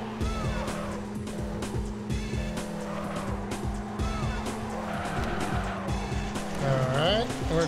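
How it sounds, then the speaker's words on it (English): A race car in a PS1 Japanese racing game drifts with constant engine whine and long squealing tires. Someone talks over the game audio, and a rising synthetic squeal comes near the end. "Trying out the drifting here."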